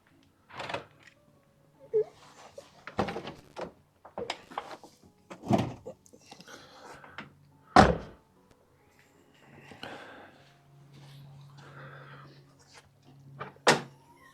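The doors of a Mini Cooper S R53 JCW car are opened, with several sharp clunks and latch clicks spread across the clip and quieter rustling and handling noises in between.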